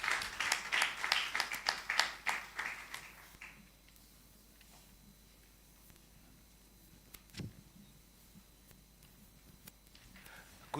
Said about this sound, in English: A big round of applause for my brother.